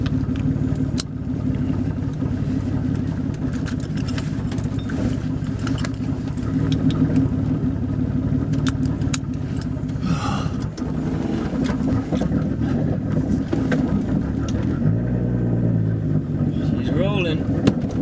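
Twin-turbo VR6 in a VW Corrado compound-turbo build, droning steadily from inside the cabin as the car rolls, with a brief engine swell near the end.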